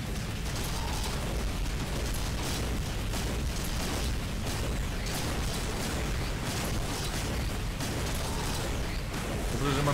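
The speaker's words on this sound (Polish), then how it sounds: "Dobrze, że mam nieskończoną ilość strzałów." Rapid gunfire and booming explosions from the video game Contra: Shattered Soldier keep up a loud, unbroken barrage of bursts and mechanical clatter.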